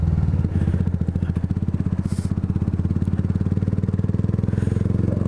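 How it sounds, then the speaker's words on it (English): A motorbike engine running in fourth gear while being ridden, a close, steady, rapid pulsing throb that holds evenly throughout without pauses. "I'm in fourth gear, the engine's about to die"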